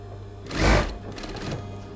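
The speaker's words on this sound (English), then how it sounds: "we're going to be stitching this edge down onto the other edge" A sewing machine stitching down the edge of a shirt collar, one swelling burst of rapid whirring followed by a shorter, fainter run, close and with no talking.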